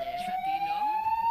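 A wailing siren in the Killing Floor video game, a steady rising tone with layered harmonics that holds loud and continuous throughout.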